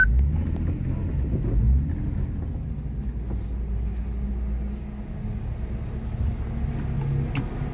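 A truck passes by in a small town in São Paulo state, its engine giving a steady low rumble that stays strong and close, then dips briefly before the noise continues.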